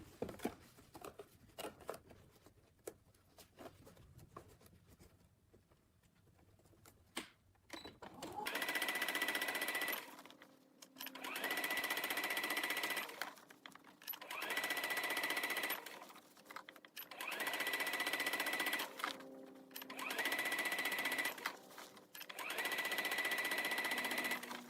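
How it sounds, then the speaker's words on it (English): A sewing machine stitches the second side of a zipped box cushion in five or six steady bursts, each a few seconds long with short pauses between, after a quieter stretch of fabric handling. "Going to sew the other side."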